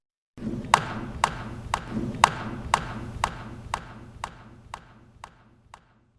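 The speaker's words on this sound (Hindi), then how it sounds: "फिर धीरे से उन्होंने ताली बजाई। आवाज पूरे गलियारे में गूंज गई।" About eleven sharp hand claps, evenly spaced roughly half a second apart, ring out along a corridor in an old haveli, each leaving a reverberant echo tail as the sequence gradually softens.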